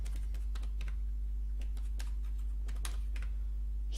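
Keys on a computer keyboard tapped while typing code, a quick run of close, crisp clicks in irregular bursts with short pauses, over a steady low hum and no talk.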